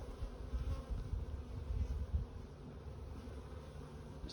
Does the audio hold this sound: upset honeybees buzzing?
yes